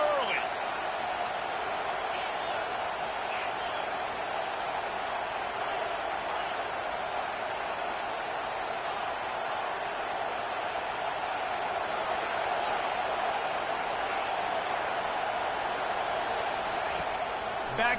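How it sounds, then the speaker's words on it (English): A stadium crowd at a college football game involving South Carolina cheers in a steady, dense roar that holds at a constant level throughout, with no single voice standing out. "This crowd bringing the energy and noise early."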